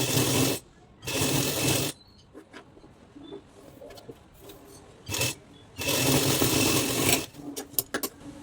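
An electric sewing machine stitches the front part of a blouse, running in several loud, fast whirring bursts separated by quiet pauses with small handling clicks.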